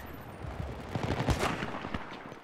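Gunfire in the video game Battlefield 3 comes as a dense, continuous burst of rapid shots and crackling impacts, loud and close throughout a short stretch.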